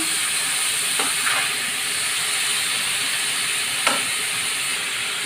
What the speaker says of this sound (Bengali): এখানে আমার শাক ভাজির জন্য পেঁয়াজটা কিন্তু লাল হয়ে গেছে। এখন আমি শাকটা দিয়ে দিব।